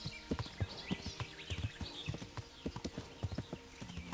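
Horse hooves clip-clopping steadily at a walking pace while riding in the medieval video game Kingdom Come Deliverance, close and clear with a faint neigh in the background.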